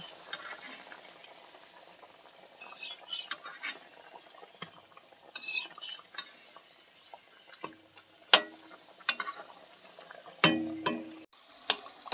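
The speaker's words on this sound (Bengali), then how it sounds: "আমি আস্তে আস্তে লাল করে ভেজে নেব" Chira (flattened rice) and potatoes fry in hot oil, a soft steady crackle and fizz with scattered pops, plus sharper clatters and bursts of sizzling as pieces are stirred or dropped in.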